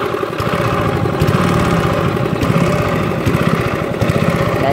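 A small boat engine runs steadily on a rural river, a loud, close, rough mechanical drone with a constant throbbing pulse and no voices.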